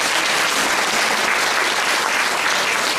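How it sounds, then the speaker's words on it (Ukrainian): Dense, loud audience applause fills a hall at a children's music school event in Ukraine, a continuous even roar of many hands clapping together throughout with no talking over it. "Привітаємо їм оплесками, будь ласка."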